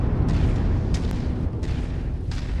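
Continuous rumbling artillery explosions in the MechWarrior 5 video game, heavy low booms rolling one into the next at roughly regular intervals, loud and sustained with no talk.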